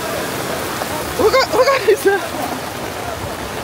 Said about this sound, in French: Les filles, je vous jure, il pleut super fort